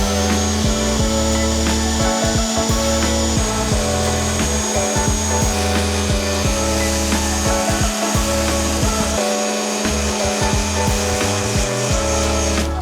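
A power sander works on small wooden coasters with a loud, continuous whirring drone and a high whine, its pitch stepping and dipping as pressure on the wood changes, with no speech.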